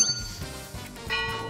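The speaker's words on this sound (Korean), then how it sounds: "골든벨이 울렸습니다" A golden bell chimes on a Korean stock investment TV quiz show, with a few bright, ringing dings that fade and then strike again near the end, fairly soft overall.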